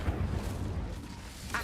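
An Incendio fire spell goes off in Hogwarts Legacy as a short, low whooshing burst, with a brighter flare of sound right at the end.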